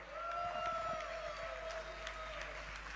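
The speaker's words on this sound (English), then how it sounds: "can we hear some loud applause?" A gala audience at a school fundraising fashion event gives applause, a steady wash of clapping and crowd noise with a sustained tonal hum running through, fairly faint and distant.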